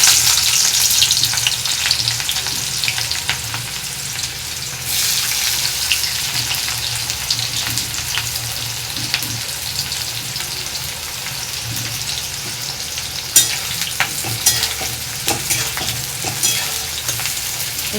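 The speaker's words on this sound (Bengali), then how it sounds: "পেঁয়াজটা লাল লাল করে ভাজা হোক" Sliced onions fry in hot oil in a home kitchen, giving a continuous crackling sizzle with occasional clinks and stirring noises, fairly close and without speech.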